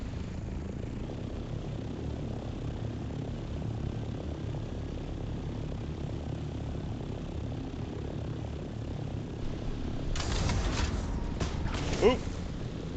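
A propeller-driven aircraft drones steadily in the Dune Awakening video game, a constant engine hum with a brief louder thump and rattle near the end.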